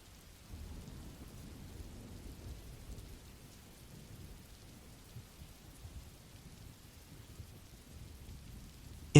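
Steady rainfall with low rumbling thunder rolling underneath, soft and continuous with no talking, a constant wash of drops throughout.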